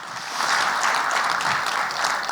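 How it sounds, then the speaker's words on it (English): Sustained applause from a crowd at a men's conference, a dense, even patter of many hands clapping at moderate distance without speech on top. "give yourselves a round of applause for that"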